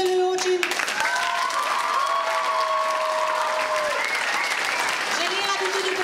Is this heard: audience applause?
yes